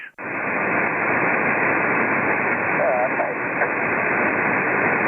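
Loud, steady ham radio static hiss on an open band fills the whole stretch with a constant tone running underneath, faint traces of distant signals buried in the noise.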